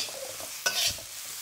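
Vegan chow mein noodles stir-fried in a wok on high heat, a steady close sizzle with a brief scraping toss of the spatula.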